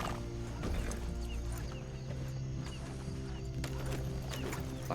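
Horses gallop in Red Dead Redemption, with a rapid, steady beat of hooves, a neigh or two, and a low game ambience underneath, with no talk.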